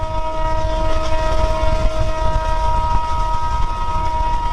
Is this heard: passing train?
yes